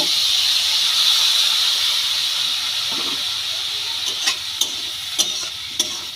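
Water poured into hot semolina upma in a pan sends up a loud, sustained hissing rush of steam and sizzle, fading slightly as a few sharp spoon taps sound near the end.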